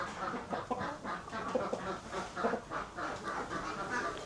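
Roosters and other chickens at a small animal show in Leingarten, with overlapping crowing and clucking from several birds amid a busy hall murmur.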